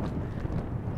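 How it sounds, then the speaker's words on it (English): Wind gusts roar across the microphone in a continuous low rumble, loud and close, at an abandoned mine in the Arizona mountains, with no one talking. "My goodness me, it's so windy."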